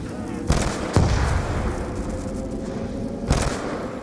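Gunfire from a video game gun in zombies mode, with several sharp shots at irregular intervals over a steady background of game noise. No one talks.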